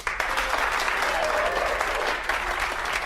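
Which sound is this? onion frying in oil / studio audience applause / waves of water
studio audience applause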